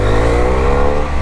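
Close, loud engine drone from a BMW F800 motorcycle, held at steady high revs with a smooth continuous tone and no pauses.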